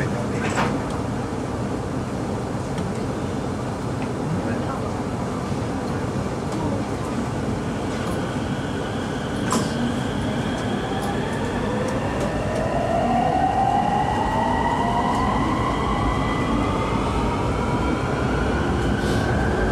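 A Japanese-made Bangkok MRT Purple Line train runs along from inside the carriage, with a constant loud rumble of wheels and motor and a rising whine as it speeds up, plus a few brief clicks.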